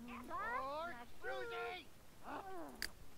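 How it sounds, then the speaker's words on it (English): A cat in The Sims 3 gives three drawn-out, wavering meows in quick succession, clear and fairly close against a quiet game background. "Cat's like freaking out."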